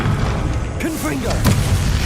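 A Confringo fire-spell blast in Hogwarts Legacy lands as a short booming burst during combat, with a shouting voice over it and a dense rumble beneath.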